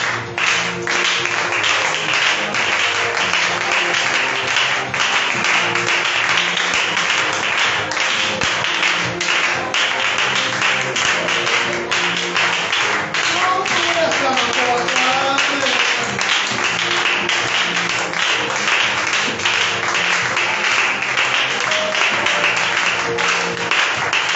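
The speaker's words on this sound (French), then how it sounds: "Oh, acclame, continue d'acclamer." A church congregation claps and applauds continuously and loudly, a dense, even wash of hands sustained throughout, with a voice speaking over it midway.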